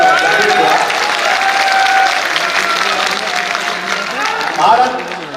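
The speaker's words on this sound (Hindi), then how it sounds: "पूरा सदन तालियों से गूंज उठा" A large assembly hall rings with loud, sustained applause from a big audience, a thick continuous clatter of clapping with crowd murmur and voices underneath, swelling briefly near the end.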